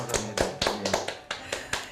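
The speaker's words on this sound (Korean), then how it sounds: "박수 한번." A small group clapping in appreciation of firefighters who battled a large wildfire in Gangwon, roughly nine sharp claps in a loose, even rhythm, close and fairly distinct.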